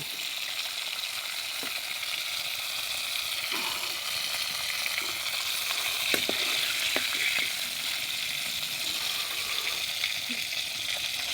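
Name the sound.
onions frying in a pan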